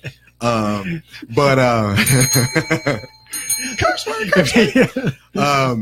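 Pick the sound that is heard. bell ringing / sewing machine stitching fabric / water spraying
bell ringing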